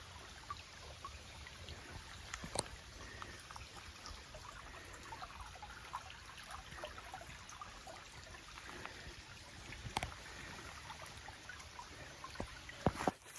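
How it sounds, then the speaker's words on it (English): A creek in D'Aguilar National Park flows and trickles softly and steadily, heard from nearby with occasional small splashes and clicks and no talking. "I'll just let the sounds of the creek speak to you."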